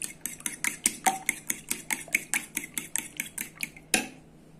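A utensil beats two eggs with olive oil in a bowl, making a fast, regular series of light clinking strokes, about four per second, that stop abruptly at the end.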